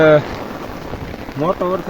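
Dense patter of rain drumming on an umbrella close by, with a voice speaking briefly at the start and end.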